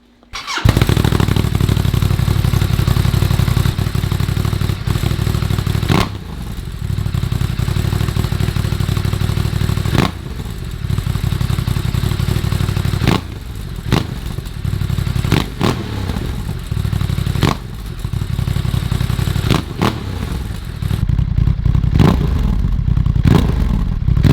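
Ducati DesertX adventure motorcycle with aftermarket upgrades starting up and idling with a loud, lumpy twin-cylinder beat, punctuated by several sharp throttle blips over about twenty seconds, close by.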